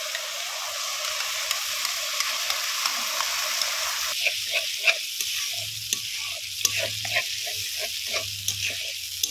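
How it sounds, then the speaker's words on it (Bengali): Masala with cashew paste and yogurt stir-fried in a pan for a cauliflower korma, a steady close sizzle and frying hiss, joined midway by rhythmic stirring scrapes. "ভালো করে মশলাটাকে কষিয়ে নেব।"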